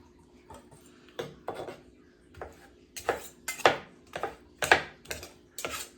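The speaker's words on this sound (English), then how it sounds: "And we're just gonna chop it." A knife roughly chops blotted ingredients for an orzo salad on a cutting board, giving a series of sharp, irregular knocks close by, spaced a fraction of a second apart, with no talking.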